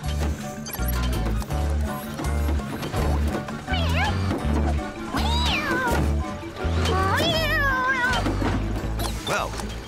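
A cat meows several times in high, wavering cries over a loud, rhythmic musical backing with a thumping beat, from an animated Postman Pat episode; voices are heard briefly.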